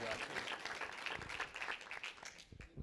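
An audience at a school board meeting claps for a high jump student, a steady, moderate round of hand claps with some speech-like sound mixed in.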